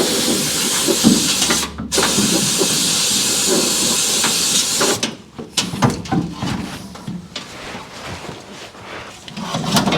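Undercoating sprayed onto a truck's rusty strut and underside, a steady close hiss of compressed spray running for about five seconds, then a string of shorter bursts with brief pauses.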